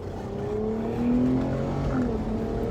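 Car driving through city streets on a sunny day, its engine humming steadily and then rising briefly in pitch as it accelerates, close and continuous with no talk.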